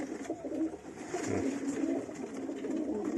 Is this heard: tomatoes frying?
no